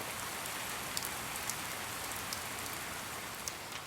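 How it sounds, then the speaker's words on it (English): Steady rain falls over a small backyard garden, a dense, even hiss with scattered sharper drops ticking through it, continuous and fairly close for several seconds. "2 days later, the rain came."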